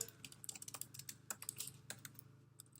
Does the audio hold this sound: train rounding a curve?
no